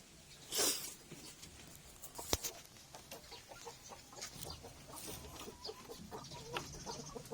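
Pure Rhode Island chickens, two hens and a rooster, clucking in soft scattered bursts, with one louder call early on and a sharp click midway.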